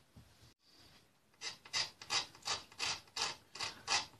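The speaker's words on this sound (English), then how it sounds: "the idea is to put a little relief here and then feather it in with the scraper." Scraper feathering wood on a fiddle plate near the f-holes: about eight rhythmic, rasping strokes in quick succession after a short pause, close and fairly quiet.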